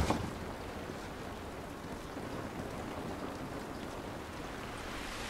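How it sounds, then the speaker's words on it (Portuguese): Steady, dense rain in The Last of Us Remastered hisses continuously, a broad even wash of falling water with no voices. "Essa chuva não vai nos ajudar."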